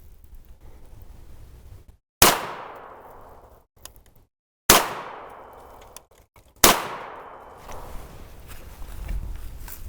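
Three loud, close gunshots from an American short-barrel Hi-Point carbine ring out about two seconds apart, each a sharp crack followed by a decaying echo, with quiet between shots and no talk.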